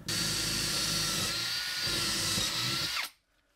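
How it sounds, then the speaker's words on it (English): A power drill pre-drills a pilot hole for an anchor bolt, running as a steady high whine with slight load changes for about three seconds, then stopping abruptly; close and loud, no talking. "I have a drill bit that is slightly smaller than the threads on my anchor bolt. So I can go ahead and pre-drill."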